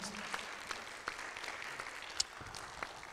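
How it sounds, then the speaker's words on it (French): Faint, brief applause from a conference audience: scattered soft claps under a quiet room murmur. "Donc merci à vous deux, on peut les applaudir."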